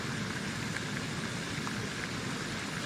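Steady rain hisses down over a golf course during a women's professional tournament round, an even, continuous wash of drops with no pauses and no voices.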